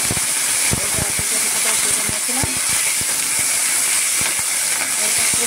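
Potatoes hitting a hot pan of oil with turmeric and spices give off a loud, continuous sizzling hiss, broken by scattered sharp crackles and pops, close up and without talk.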